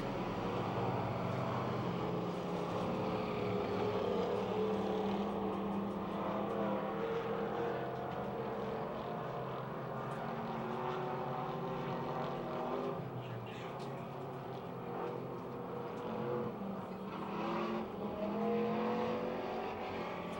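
Race cars lap Pennsylvania Motor Speedway near Pittsburgh, making a continuous engine drone at a moderate distance that swells and fades slightly as they circle, with no clear voices.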